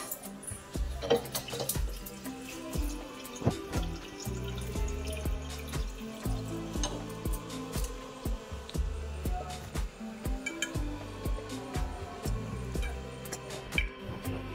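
Water running into plastic drums as they are filled, a steady splashing and gurgling stream with irregular knocks and drips, fairly close and without talk.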